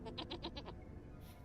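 Goats bleating in the game Vintage Story, a short, wavering, nasal bleat of several quick pulses over a low steady background hum, faint and brief with no talk.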